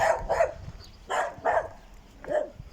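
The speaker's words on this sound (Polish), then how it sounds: "O, fajne pieski." Several dogs barking nearby in short, sharp bursts, mostly in quick pairs with brief pauses between, about five barks in all and no voices.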